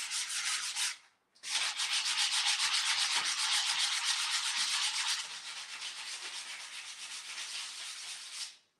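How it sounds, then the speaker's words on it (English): A wood piece gets a fine sanding with continuous rough rubbing strokes close by, briefly pausing early on, then resuming and easing slightly softer toward the end. "It's a fine sanding. That's what is coming out now."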